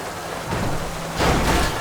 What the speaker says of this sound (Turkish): Ne yağmur yağıyor ya?